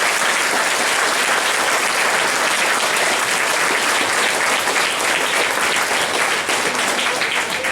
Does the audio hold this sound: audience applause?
yes